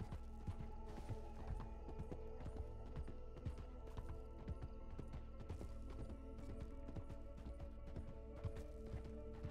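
Horse hooves clip-clop in a steady rhythm through Red Dead Redemption Online gameplay, loud and continuous, with no talking over the trotting.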